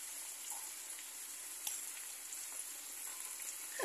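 Zucchini pieces sautéing in a pan with salt and red pepper, giving a faint steady sizzle with soft crackles and a louder clatter at the very end.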